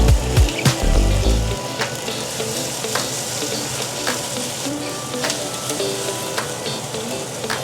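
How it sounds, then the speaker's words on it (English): Onions and garlic sizzling over high heat in a pan for pork rib sinigang, an even, close crackle with occasional sharp stirring ticks. A low thump opens the sound, and no one speaks. "we want to make sure we're cooking it, sweating the onions pretty hot, so pretty high heat"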